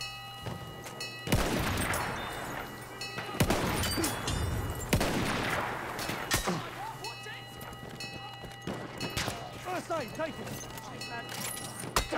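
Gunfire on a World War I battlefield in Battlefield 1: sharp, echoing shots and bursts go off at irregular intervals, some loud and close, others fainter, while a person talks over the fighting.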